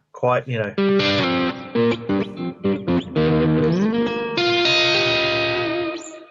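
An electric guitar played through an analog valve amp pedal with the drive turned up, giving loud, sustained, distorted notes and chords with reverb, a series of short phrases ending in a long ringing chord.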